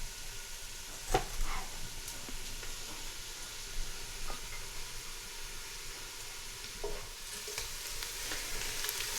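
Onions frying in a pan as the base for cumin pilau rice, giving a steady soft sizzle with a few clicks of stirring over about nine seconds.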